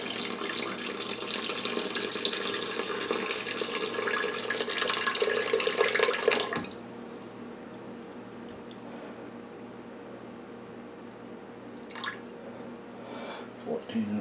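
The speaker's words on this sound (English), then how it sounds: "This is just water straight out of the tap." Tap water runs steadily from a kitchen faucet, loud and close, while dough for a naturally leavened multigrain sourdough bread is prepared; the flow stops partway through, leaving a quiet room with a few faint clinks and drips.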